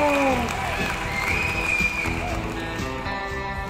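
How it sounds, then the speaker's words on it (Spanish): Applause and light cheering from a crowd, a thick continuous clatter of clapping with tonal sounds drifting over it, strongest at the start and gradually settling. "¡Un aplauso y medalla de honor para el vino!"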